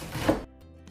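A few quick knife chops through salad greens on a cutting board, loudest in the first half, then a quieter tail with faint clicks.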